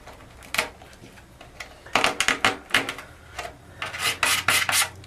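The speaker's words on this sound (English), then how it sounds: "Start by cutting out any of the loose fiberglass that was crushed in. This is where you're going to bring the razor knife into play." A razor knife cuts and scrapes out crushed, loose fiberglass, giving close, irregular bursts of rasping, scratchy strokes in quick clusters with short pauses between them.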